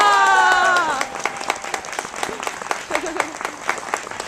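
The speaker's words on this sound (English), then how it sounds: "Give them a round of applause." Audience applause breaks out at a community theatre grand finale, dense clapping from a crowd that starts loud over a held tone and then settles into steady, slightly uneven clapping with voices mixed in.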